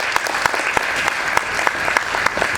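A round of applause from an audience at an opening ceremony, steady full clapping throughout with crisp nearby claps poking through.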